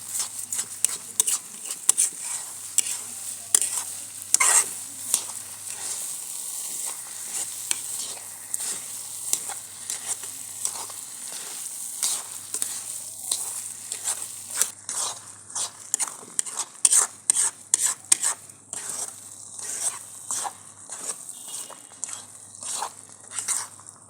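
Gajrela, Punjabi carrot halwa, roasting in a pan while a spoon stirs it steadily, giving soft sizzling and repeated scraping strokes close up, with no talking.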